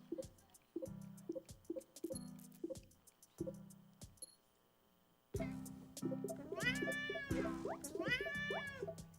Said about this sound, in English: it's going to start with the cat's in a good mood, and you're petting it